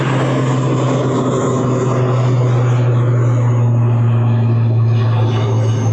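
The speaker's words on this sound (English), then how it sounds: "Aer Lingus ATR is going off to Belfast" An Aer Lingus ATR turboprop departing Birmingham Airport drones loud and close, a steady propeller hum with a strong low tone that holds throughout.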